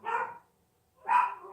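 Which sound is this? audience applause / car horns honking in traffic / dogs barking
dogs barking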